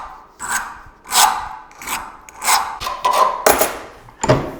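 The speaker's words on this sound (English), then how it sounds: "That way you can use a file and take the burr off from the hacksaw." A hand file rasping the burr off the hacksaw-cut end of a bolt thread, heard as about seven separate close scraping strokes in an uneven rhythm, with no talking.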